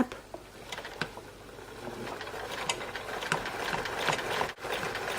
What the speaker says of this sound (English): we're sewing it onto the back side with the edge right along the presser foot